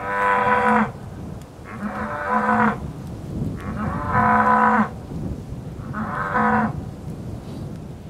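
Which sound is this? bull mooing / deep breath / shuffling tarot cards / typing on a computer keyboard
bull mooing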